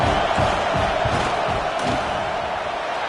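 Steady stadium crowd roar in a football video game as the field goal unit lines up, a dense wall of cheering and shouting that holds loud throughout.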